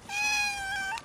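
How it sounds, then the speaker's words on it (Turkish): A stray cat gives one drawn-out, wavering meow close by, loud and clear, fading at the end with no talk over it. "Miyavlamasını duydum."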